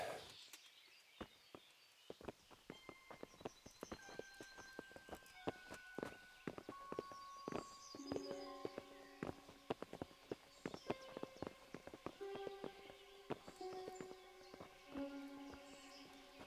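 Steady clip-clop of horse hooves walking at an even pace in the video game Kingdom Come: Deliverance, fairly quiet, with faint tones and ambience in the background.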